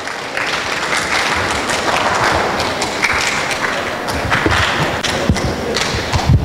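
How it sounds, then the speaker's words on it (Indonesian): Audience applauding at a talk on Islamic jurisprudence for the sick, a steady dense wash of clapping with a few louder thumps, sustained throughout at moderate loudness. "Baik, tepuk tangan untuk Mas Adit."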